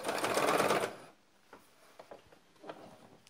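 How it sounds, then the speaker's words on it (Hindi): A sewing machine stitches salwar fabric pieces, a fast, loud mechanical whirring burst lasting about a second, followed by sparse quiet clicks and handling taps. "अब ये सीधी सिलाई लेंगे, कुंदे और पोंचे और कुंदे को साथ साथ जोड़ेंगे"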